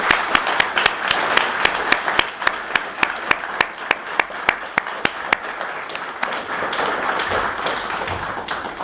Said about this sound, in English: So could we all please give them a big round of applause?